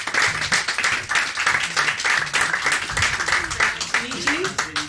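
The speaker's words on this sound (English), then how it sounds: "Can we all give Mr. Young a round of applause?" An audience at a Margate film screening claps for a guest, a brisk patter of applause running under someone talking over it.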